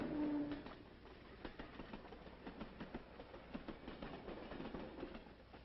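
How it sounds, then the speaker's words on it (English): A distant Southern Pacific Railroad freight train rumbles along the rails with faint rhythmic clicking, low and muffled throughout. "There, the Southern Pacific Railroad took over"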